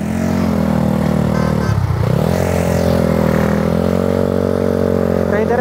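Suzuki Raider FI 150 motorcycle engine running loud and close, holding a steady drone with a brief dip and recovery partway, then climbing again; no talk.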